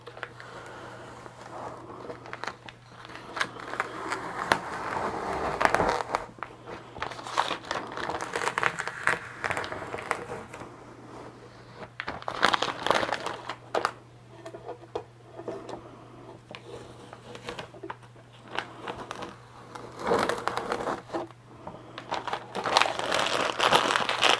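Old plastic sheeting is peeled and crinkled off a wooden leveling table used for resin work, giving close, irregular rustling and tearing bursts over a steady low hum, with no talking.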